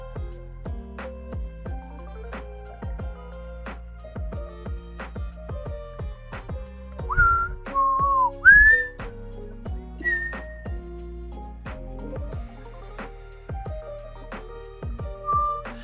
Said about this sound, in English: Not even whistling to the beat, man.